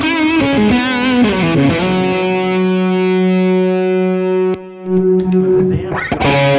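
An electric guitar played through a JHS AT pedal into the clean channel of a Fillmore 50 amp rings out as a bent, sustained melodic line, then a brief pick scrape and a few fresh notes near the end.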